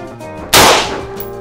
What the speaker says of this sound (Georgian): პირველი გასროლა არის ჩემი ტაიმერი.